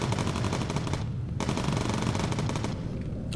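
Turret machine guns in the WWII bomber game Bomber Crew fire in rapid, loud bursts, with one brief pause and then another long rattling burst, close and with no voices over them.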